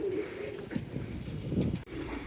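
Single pigeons kept in a loft bathe and coo, with low throaty coos rolling close by over a soft wash of background noise and a quick sharp click toward the end.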